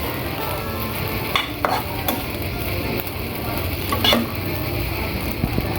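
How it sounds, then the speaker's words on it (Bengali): Spoon stirring rohu fish roe curry with torn lemon leaves in a pan, a steady close sizzle with scraping strokes and a few sharper clinks of utensil against metal. "তারপরে আবারও একটু ভালোভাবে নাড়াচাড়া করে নিচ্ছি"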